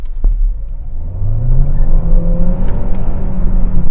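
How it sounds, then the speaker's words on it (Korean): A Hyundai Sonata hybrid accelerates hard from a standstill in an acceleration test, its engine and drivetrain note rising steadily in pitch as speed builds, loud and close from inside the car with no talking. "제가 차 사고 가속 성능 테스트 해보는 건 처음인데 상당히 궁금하네요"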